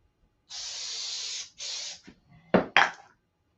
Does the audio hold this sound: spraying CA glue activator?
yes